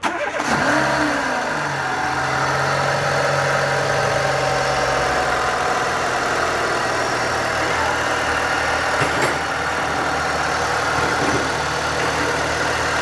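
A Renault Clio 2 1.4 16V engine cranks and catches, then settles into a steady, close idle with a constant low hum for the rest of the clip.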